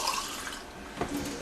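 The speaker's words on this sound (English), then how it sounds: "Pour the water." Rinse water is poured off tomato seeds, a short trickling, splashing pour with a small splash near the end, close and fairly quiet.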